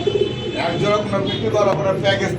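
Pigeons cooing at a Bangladeshi pigeon market, where pink-beaked birds and white-and-black fancy breeds are kept, with soft repeated coos and chirps mixed with market bustle and nearby people talking.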